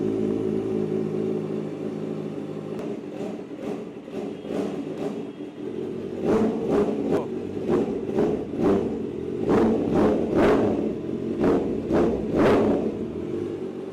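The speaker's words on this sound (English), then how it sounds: "So if we want full aggressive race bike sound, we open it up." A Kawasaki ZX-4R with an aftermarket valved exhaust opened fully idles with a low burble, then blips its throttle in a series of sharp, loud revs, quick bursts in uneven clusters, close up with no voices.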